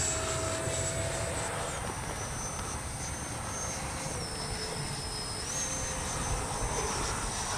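A Freewing 80mm L-39 camo RC jet flying, a steady whining turbine hum with a faint pitch shift midway, heard at a distance against a constant background drone with no talk.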